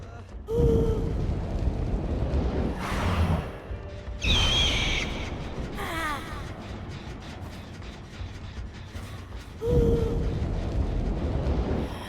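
A flashbang detonates in the Dead by Daylight horror game, a loud booming burst followed by rumbling noise, with other sharp in-game effects and tonal chirps scattered across the stretch, no talk.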